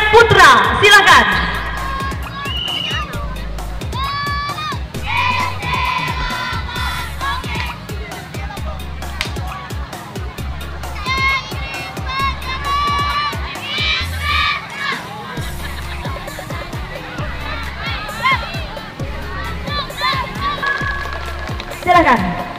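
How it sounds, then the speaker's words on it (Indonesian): A large outdoor crowd cheers, shouts and claps at an elementary school marching competition, with children's shrill voices and chatter throughout, loud and sustained. "Beri tepuk tangan yang meriah."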